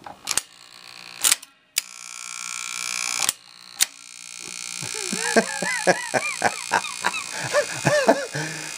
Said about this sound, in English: it's still buzzing and the trip solenoid won't stay down